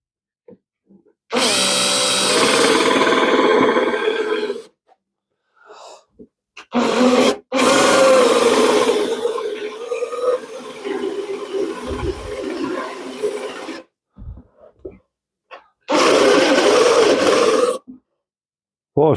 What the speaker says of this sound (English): wait till I can feel the drill the other side, flip it